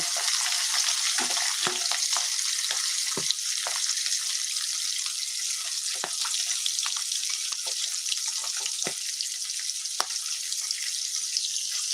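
Two small hilsa fish sizzle in hot oil in a wok, a continuous bright frying hiss carrying on for several seconds, dotted with scattered crackles and spits, with no voices over it.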